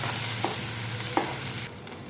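Ground masala paste fries in oil with turmeric in a pan for an egg curry. It makes a steady close sizzle, with a couple of brief stirring knocks, and the hiss eases slightly toward the end.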